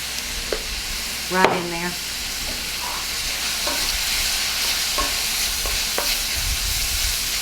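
Peppers and red pepper flakes fry in a pan with a steady, close sizzle, broken by a few stirring clatters and utensil taps while a voice briefly speaks.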